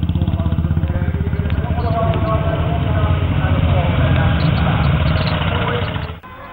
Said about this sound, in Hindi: सेना के डेयरडेविल्स की टुकड़ी जब मोटरसाइकिलों पर सवार होकर निकली